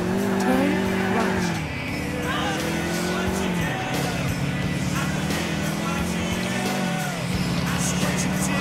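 A car driving in the video game GTA IV, with a steady engine drone that rises and falls as the car shifts and accelerates, tires occasionally squealing, loud and continuous under the game's background sound.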